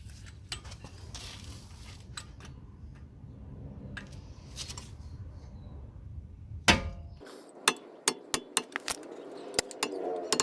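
Metal taps and clinks as a screwdriver pushes back brake caliper pins on a BMW 4 Series M Sport during a brake pad and rotor job, sharp and quiet, coming in a quick irregular series after a low background hum stops.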